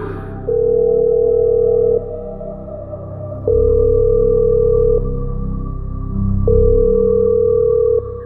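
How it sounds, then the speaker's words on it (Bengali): A landline telephone rings three times, each a long, steady electronic tone followed by a pause, over a low background hum. "ল্যান্ড ফোনটা বেজে উঠল।"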